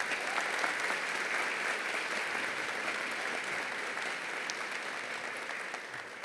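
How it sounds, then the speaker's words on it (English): A crowd claps steadily at a high school ribbon cutting and centennial celebration, a dense, even wash of applause from a gathered audience that holds throughout and eases slightly at the end. "let's give them a round of applause for making this happen"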